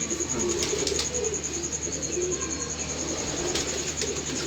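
Racing pigeons cooing in a loft, soft low murmuring coos running continuously under a steady background hiss, with occasional faint chirps; no speech.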